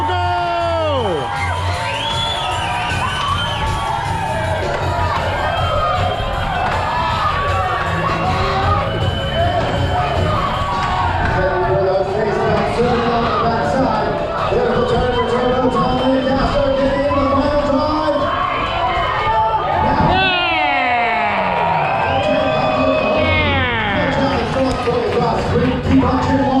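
A lively crowd at a lumberjack show in Alaska cheers, whoops and yells continuously while contestants chop, loud and close, with an announcer's voice and children's shrieks mixed into the roar.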